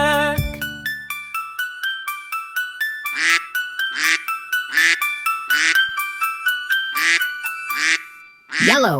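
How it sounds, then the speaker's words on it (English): Cartoon duck quacks in a children's nursery rhyme song about five little ducks, a rapid run of bright, evenly spaced quacks over music, ending in a louder drawn-out quack. "Sad mother duck said quack, quack, quack"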